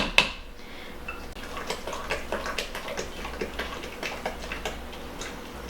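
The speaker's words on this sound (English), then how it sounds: "Make sure you stir it really well so you get all that corn muffin mix stirred in." Spoon stirring a corn casserole mixture of corn muffin mix and sour cream in a bowl, giving quick repeated clicks and scrapes against the bowl in a steady rhythm, close and fairly loud.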